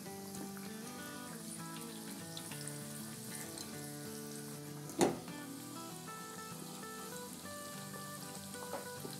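Pieces of marinated fish for Lahori fish fry sizzle in hot oil with a steady, close crackling hiss, interrupted once by a single sharp pop midway, and no voices.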